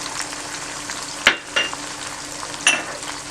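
Onions fried to a light colour sizzle steadily in a cooking pot as chillies are added, with a few sharp clinks of a spoon against the pot; no one speaks.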